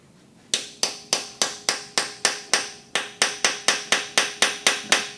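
Hammer taps on a number 6 bolt extractor, seating it during a Hemi oil filter adapter swap: about fifteen sharp, evenly spaced metallic strikes, close and clear, with no talking.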